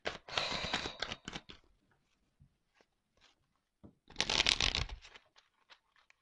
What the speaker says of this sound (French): Je vais pas prendre beaucoup de cartes.